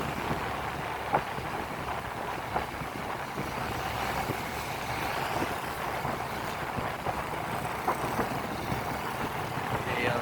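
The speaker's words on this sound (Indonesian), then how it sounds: "Harus lalu lintasnya cukup padat ya, karena ini merupakan jam pergi sekolah ya" Morning road traffic in Takengon, with cars and trucks passing in a steady low rumble of engines and tyres, occasional faint knocks and a little wind noise throughout.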